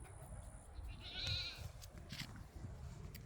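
A goat on a farm gives a single short, high bleat about a second in, fairly clear over a low outdoor rumble of wind and handling noise, with no one speaking.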